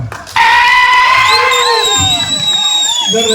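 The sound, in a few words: audience cheering and applauding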